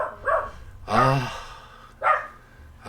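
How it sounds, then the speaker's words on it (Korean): Household dogs bark indoors, three separate barks spread over a few seconds, with one longer, deeper bark in the middle and shorter ones before and after, fairly close, with a quiet room between them. "저희 집 개들이 또 짖네요."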